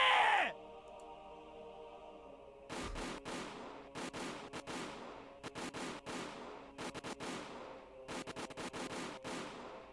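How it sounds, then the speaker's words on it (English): Gunfire in the visual novel Higurashi: When They Cry comes in rapid bursts of sharp shots, grouped into several volleys with short gaps between them. A brief cry is heard at the start. "The sound of the gunshots echoed in the silence."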